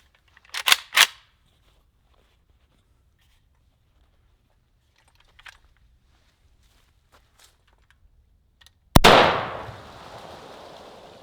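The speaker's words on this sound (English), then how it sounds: "So this is the AK-47 through 5 of these cushions." An AK-47 rifle fires through five stacked cushions: two close sharp reports early on, a faint tap mid-clip, then one loud blast near the end that decays into a long rumbling tail.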